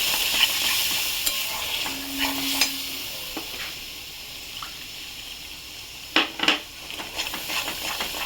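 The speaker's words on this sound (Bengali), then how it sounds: "নাড়িয়ে দিতে হবে, নাহলে ছানা কেটে যাবে দইটা" Yogurt stirred in a hot pan, a soft continuous sizzle under scattered scraping strokes of the spoon, close and moderately loud, with a few sharper knocks against the pan near the end.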